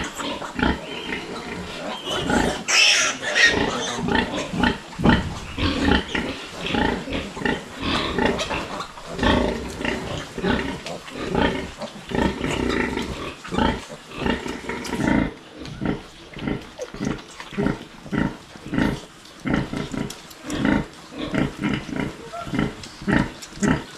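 Pigs and piglets grunt steadily in a dense, rhythmic chorus of short, close, loud snorts. Faint voices come through now and then.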